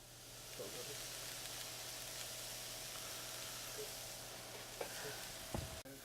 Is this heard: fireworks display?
no